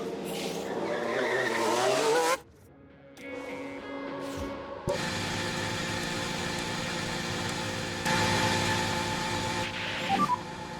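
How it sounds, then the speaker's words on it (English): A Ferrari Formula 1 car in the F1 Manager 2023 racing game whines through rising and falling engine revs, cuts briefly quiet, then holds a sustained high-pitched drone as it drives the Bahrain track in qualifying. "let's get a car out on the track for its first run and see how it goes"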